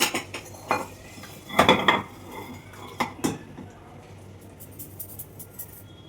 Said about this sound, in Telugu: ఒక గిన్నెలోకి తీసేసుకుందాం అండి, డిష్ అవుట్ చేసుకుందాం.